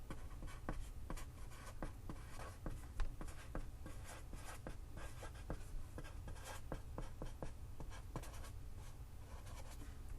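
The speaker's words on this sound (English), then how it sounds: "let me write this on a bigger sheet of paper now" Pen or marker strokes on a large sheet of paper, a steady run of short scratchy taps and drags close up, continuing without pause and with no voice over it.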